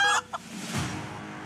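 A chicken in 7 Days to Die gives a couple of short, loud clucks up close, followed by quieter ambient sound.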